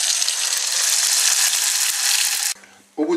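Dried pork rind frying in boiling oil, a loud, dense sizzle held steady for about two and a half seconds, then cutting off abruptly before a brief low clatter.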